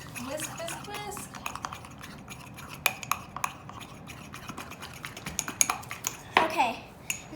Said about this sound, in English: And then for your choice, you can add some sugar. And mix that well. Okay. Whisk, whisk, whisk.